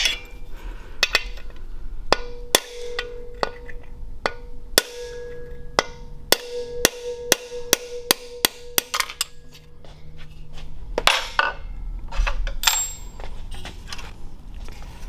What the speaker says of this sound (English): the easy way to get this out is to use a hammer and punch